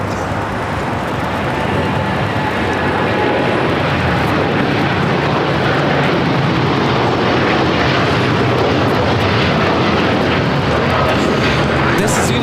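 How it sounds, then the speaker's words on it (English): A United Airlines Boeing 787-10 Dreamliner takes off at LAX, its engines a loud, steady broadband roar that fills the whole stretch. "This is United Airlines Flight 39 taking off to Tokyo, Haneda on the 787-10 Dreamliner"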